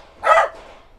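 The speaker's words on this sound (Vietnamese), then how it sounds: "Mấy ông làm sủa dữ vậy?" One dog gives a single loud, short bark close by at a Vietnamese family's new home, with quiet background noise after it.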